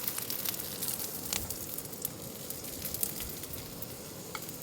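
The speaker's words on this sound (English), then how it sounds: "Sizzling." Food sizzles faintly in a pan over a camp stove at a snowy winter campsite, a soft steady crackle with occasional sharper pops.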